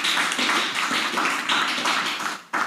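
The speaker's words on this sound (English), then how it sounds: "Rounds of applause" Audience applause at a public discussion, a continuous wash of many hands clapping at fairly close range, holding steady before a brief dip near the end.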